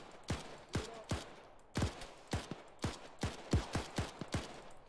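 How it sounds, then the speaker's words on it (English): Rifle fire in the military game ArmA 3 rings out as a rapid series of about a dozen sharp cracks, some spaced and some in quick pairs. The shots are close and fairly crisp over a quiet background. "Those shots are coming very close to me."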